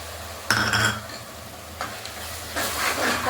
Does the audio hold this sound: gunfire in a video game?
no